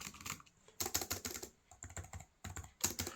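Quick bursts of typing on a Perixx PERIDUO 613B wireless compact chiclet keyboard, soft close key clicks in uneven clusters separated by short pauses.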